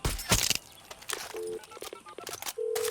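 In-game phone dialing in the video game Far Cry 6: a short burst of electronic keypad tones, then a held dial tone near the end, mixed with clicks and brief game noises.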